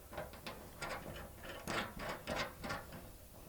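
A nut threaded onto a bolt and tightened while fitting a tractor canopy, a steady run of ratcheting clicks, close and moderately loud, with no talking.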